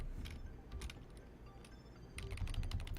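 Clicking computer keys come in quick bursts with short pauses between them, the strokes light and close but fairly quiet, with no voices.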